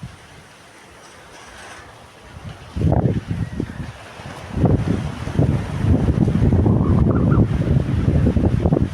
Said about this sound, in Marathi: वाऱ्याचा आवाजच तुम्हाला जास्त येत असणार आहे